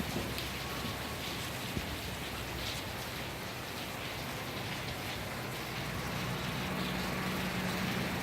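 Heavy rain pours down outdoors in a dense, constant hiss, steady and fairly close throughout with no voices.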